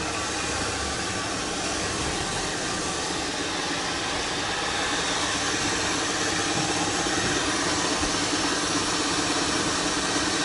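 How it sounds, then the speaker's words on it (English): A very large coffee grinder runs in a roastery, grinding Guatemalan organic beans into a hopper, giving a steady, loud, dense motor drone with a grinding rush that holds unbroken throughout. "So we're grinding into the hopper."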